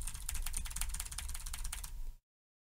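Keys on a new computer keyboard clatter in fast, dense clicking bursts for about two seconds, close and crisp with no talk, then stop abruptly.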